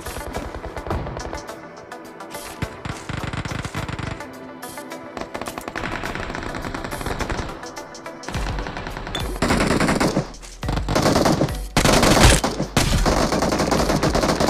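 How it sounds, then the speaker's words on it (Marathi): Gunfire in a battle royale video game match: loud, dense automatic bursts and rapid shots coming in sustained waves with brief pauses, close and dominant, no talking. "इथून राईटनं थोडं फायरिंग येते"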